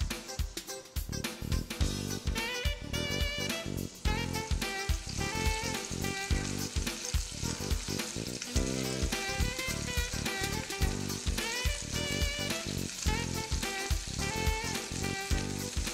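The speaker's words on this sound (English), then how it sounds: "We're going to sear each side, and so we may have to turn it a few times, but we want to get it nice and brown" Pork tenderloin with rosemary sears in a hot pan, giving a loud, steady sizzle and crackle with dense popping spatter throughout, and no talking over it.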